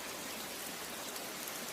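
Steady rain falls as a dense, even hiss with no distinct drops standing out and no voices.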